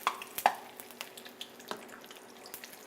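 A chimichanga set into a hot pan gives a soft sizzle dotted with sharp crackles and pops, close and fairly quiet.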